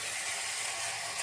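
Chicken meat is sautéed in spices for a quick pressure-cooker chicken dish, making a dense, continuous, hissing sizzle heard close up with no voices.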